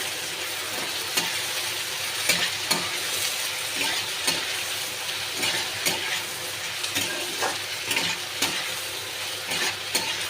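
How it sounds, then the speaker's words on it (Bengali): Ginger and garlic fry in a pan, a steady sizzle broken by repeated scrapes and stirs of a utensil against the metal, close and continuous with no talking. "এবার আদা রসুনটা দিয়ে আমি একটু ভেজে নেব।"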